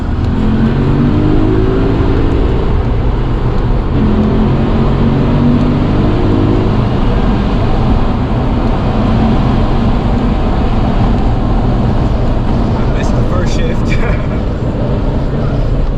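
A Lexus IS F engine roars steadily under hard acceleration in sport mode, loud and close throughout, with a continuous rumbling drone and voices talking over it.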